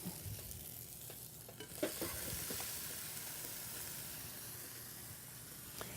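Chicken searing on a hot panini maker gives a steady, close sizzling hiss, with a few soft clicks and stirs near the start.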